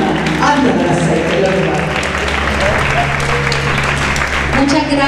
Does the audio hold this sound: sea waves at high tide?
no